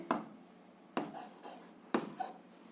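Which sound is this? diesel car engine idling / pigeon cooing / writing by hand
writing by hand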